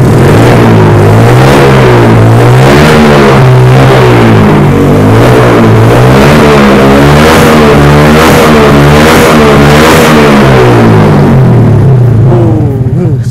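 A custom Suzuki Karisma motorcycle engine is revved repeatedly up close, loud throaty pulses rising and falling in a steady rhythm of blips over a continuous idle rumble.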